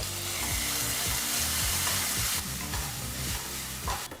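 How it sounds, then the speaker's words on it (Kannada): Chopped tomato and onion fry in a pan with a continuous close sizzle and repeated rhythmic scraping stirs throughout, loud and without any talking. "ಟೊಮೊಟೊ ಹಣ್ಣನ್ನು ಸಹ ಎರಡು ನಿಮಿಷಗಳ ಕಾಲ ಫ್ರೈ ಮಾಡ್ಕೋಬೇಕಾಗತ್ತೆ"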